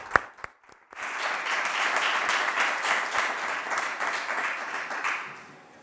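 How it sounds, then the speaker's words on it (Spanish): An audience at a children's rights education conference breaks into sustained applause after a couple of sharp claps, the dense clapping holding steady for several seconds and then fading out. "yo les doy un aplauso a los dos."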